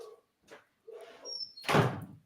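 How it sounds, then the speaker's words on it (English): A studio door is pushed shut, first some small shuffling knocks and a short squeak, then a loud close thud that tails off quickly. "Let me shut this door to my studio."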